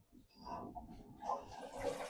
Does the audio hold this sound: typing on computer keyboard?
no